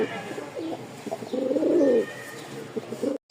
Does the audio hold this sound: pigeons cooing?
yes